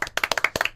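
A short burst of hand clapping from a small group, quick uneven claps lasting under a second, close and fairly loud.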